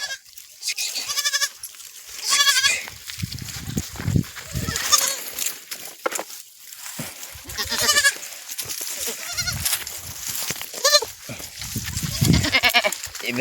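Goats and young kids bleat repeatedly in a pen, overlapping calls near and far with a voice speaking between them.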